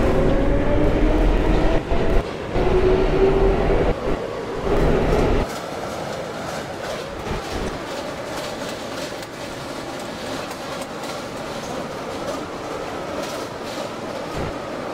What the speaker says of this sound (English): This is a basic terminal bound L train.